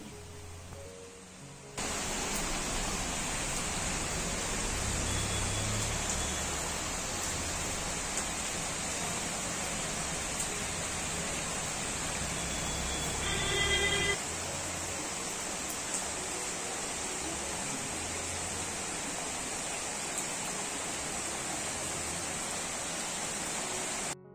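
Heavy rain pours steadily as a dense, even hiss throughout a home cooking routine, strong and close with no voices over it.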